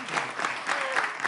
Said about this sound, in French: Mais applaudissez.